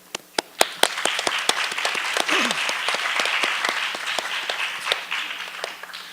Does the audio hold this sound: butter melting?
no